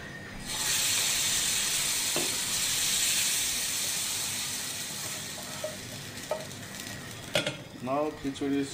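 Loud hot-oil sizzle bursting up as spiced oil tempering is poured into a pot of khichri, hissing steadily and fading, followed by clinks and a brief voice.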